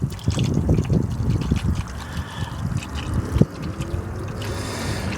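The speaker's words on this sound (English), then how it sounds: "Now while the oil is draining" Motor oil drains from a vehicle during an oil change with an irregular trickling, dribbling liquid sound, close by and moderately loud, with a brief sharp knock partway through.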